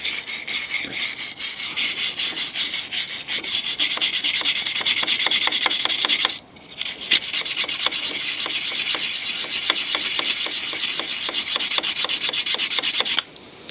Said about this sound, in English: just a little bit of elbow grease and wire brush